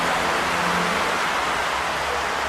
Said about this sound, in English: It's currently raining again.